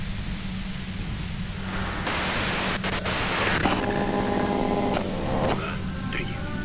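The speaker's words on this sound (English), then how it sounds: "you can do it through the white noise" White noise from the video game Disco Elysium: a loud burst of flat, hissing static cuts in over a low steady hum for about a second and a half, followed by soft tonal chimes.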